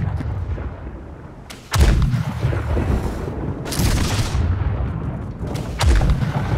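Ship cannons in Blackwake firing a broadside, with several heavy booms and deep rolling rumbles arriving one after another, loud and close, with no talk over them.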